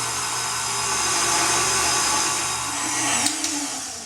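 An electric hand mixer whirs steadily through eggnog cake batter with sugar being added, a continuous close buzzing drone that shifts slightly near the end.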